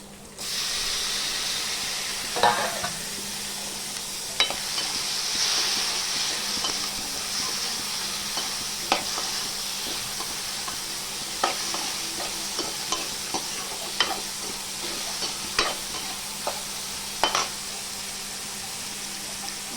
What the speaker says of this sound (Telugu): ఎర్రగడ్డలు అయితే వేగిపోయాయి. టమాటా వేసుకున్నాం.